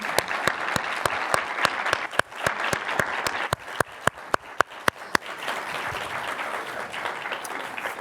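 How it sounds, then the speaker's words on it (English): Applause from a small audience at an author talk, with many sharp, distinct claps up close over a softer bed of clapping that thins and fades toward the end. "please give her a round of applause"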